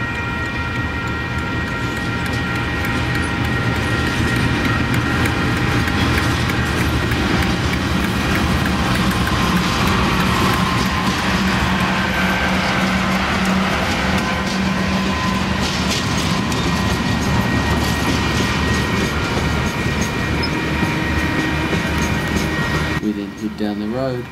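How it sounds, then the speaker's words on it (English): TranzAlpine Express passenger train pulling away from Otira after a crew change, a loud continuous rumble of engine and wagons rolling close by with steady clatter throughout. "we see the train depart Otera"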